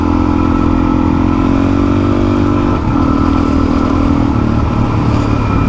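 Suzuki DRZ400E dirt bike ridden along a dirt bridle track, its single-cylinder engine droning steadily and close, with a slight dip in revs midway before it pulls on again.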